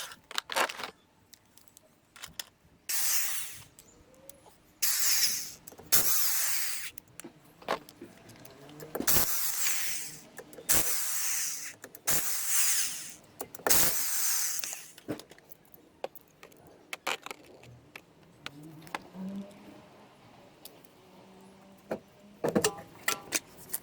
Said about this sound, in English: I'm going to start off with a Dremel